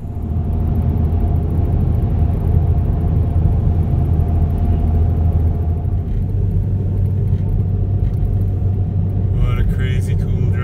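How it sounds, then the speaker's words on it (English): A van drives along a road, its steady engine and road rumble continuous and fairly loud throughout. "What a crazy cool drive."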